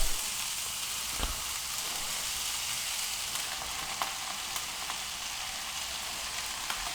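Mushrooms frying in a pan for a pork goulash, giving a steady, dense sizzle with a few louder crackles and pops. The sound stays close and even throughout, and no one speaks.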